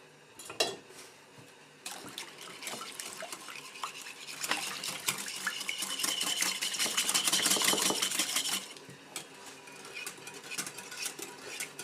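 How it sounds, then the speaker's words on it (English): A whisk beats a mixture of water, vinegar and sugar in a kitchen, making fast, close scraping and swishing strokes in bursts, strongest and most continuous in the middle stretch. "I'm going to whisk this up"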